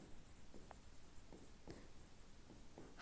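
Marker or chalk writing on a board during a chemistry lecture on metals and non-metals, faint scratchy strokes in short bursts against quiet room tone, with no speech over them.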